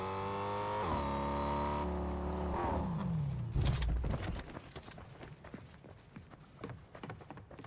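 A car in Fortnite roars at first with a loud, steady engine tone that drops away, then gives way to scattered clattering, footsteps and impact sounds, and no one talks.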